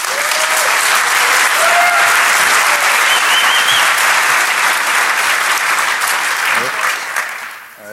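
Loud, sustained applause from a conference audience at Defcon greeting a speaker, dense clapping with a few scattered voices and whistles, fading toward the end.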